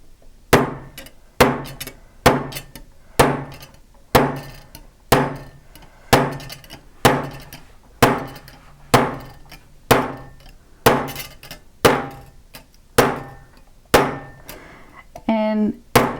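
A hammer strikes a texture stamp held on metal for fold forming, landing about twenty sharp, ringing metallic blows in an even rhythm, each decaying quickly, loud and close.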